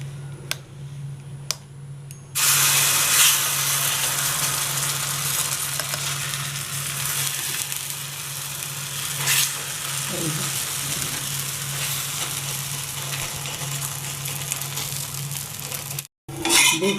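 Gola ruti batter fries in hot white oil, a steady close sizzling hiss that starts abruptly as the batter hits the pan and continues evenly, with a low kitchen hum beneath and a brief break near the end.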